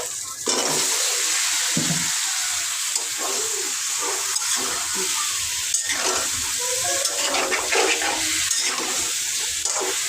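Bottle gourd frying in a pan, a steady close sizzle with faint stirring scrapes and clinks running throughout.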